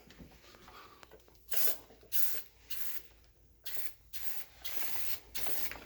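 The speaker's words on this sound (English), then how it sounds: "So I spray it with the sprayer." Sealer sprayed from a handheld sprayer onto a marble tile backsplash: a series of short, hissing bursts of varying length separated by brief pauses, fairly close and moderately loud with no talking.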